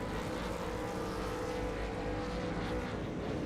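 Race car engines idle and rev together on the grid at Lime Rock Park in a V8 sim racing game, a steady, dense, loud mechanical roar that fills the whole stretch.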